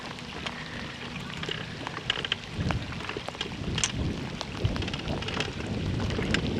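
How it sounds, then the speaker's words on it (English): Rain falls beside a lake during a bass fishing trip, a patchy hiss of drops mixed with wind buffeting the microphone and scattered knocks, moderately loud with no talking. "Yeah, that's rain."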